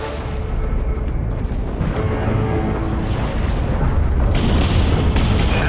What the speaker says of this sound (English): The enemy's command ship has been destroyed.